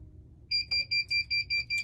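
A heat press timer goes off after sublimation onto a baby blanket, sounding a rapid run of seven sharp electronic beeps in even rhythm, close and loud over a quiet hum.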